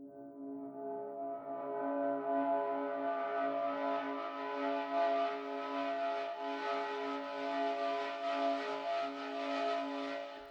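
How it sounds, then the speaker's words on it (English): Granulator synth pad swelling in softly and holding a sustained, shimmering chord tone, fairly quiet and alone, with a grainy texture building over time. "I have this granulator sound"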